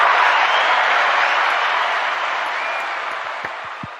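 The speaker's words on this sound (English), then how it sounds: "That was a double clap." Applause sound effect of a dense crowd clapping loudly and steadily, tapering slightly toward the end with a few sharp separate claps.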